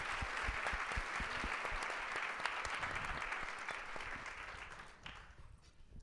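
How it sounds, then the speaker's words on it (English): An audience at an event celebrating women of the civil rights movement applauds the women on stage, a full, sustained roar of clapping that holds steady and then slowly fades toward the end. "So can we just give them yet again a round of applause?"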